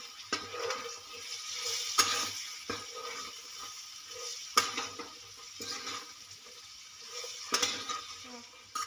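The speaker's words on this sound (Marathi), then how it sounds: "हिंग टाकूया त्याला मिक्स करूया आपण छान" Asafoetida being stirred into hot oil in a pan while cooking green bean pods: a steady sizzle of frying with several sharp scrapes and clinks of a spoon against the pan, close and moderately loud, no talking.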